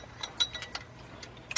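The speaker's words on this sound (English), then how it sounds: "tightening up one more bolt" A bolt being tightened with a ratchet while the A/C compressor of a 1997 Saturn SL1 with a 1.9 engine is serviced: a few quick, light metallic clicks in an uneven rhythm, close by, with no talking.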